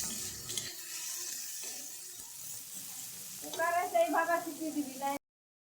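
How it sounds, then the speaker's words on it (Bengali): Onions frying in a pan, a steady sizzle with stirring scrapes through the clip, close up; a person talks over the later part. "পেঁয়াজটা এখন খুব ভালো করে মিশিয়ে নিচ্ছে আর লাল লাল করে ভেজে নেব"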